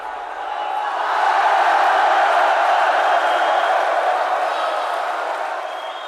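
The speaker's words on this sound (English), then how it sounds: "The crowd cheered." A large circus crowd cheers and roars inside a tent, a broad sustained wash of voices that swells in and holds loud before easing slightly, with no distinct single voices standing out.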